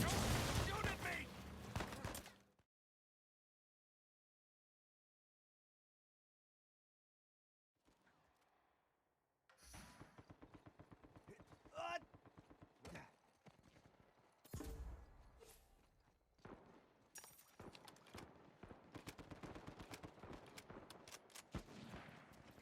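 Gunfire in Uncharted 4 multiplayer crackles in loud, dense bursts, broken by several seconds of silence before repeated volleys and single shots return and keep going to the end.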